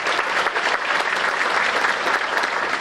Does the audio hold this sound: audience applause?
yes